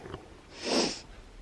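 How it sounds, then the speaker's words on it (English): One close, breathy sniffle from a person with allergies: a short sharp intake through the nose followed by a longer airy sniff, alone and without talk. "I've got allergies, so that's what all the sniffling is for."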